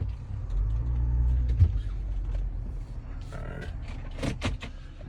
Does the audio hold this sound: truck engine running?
yes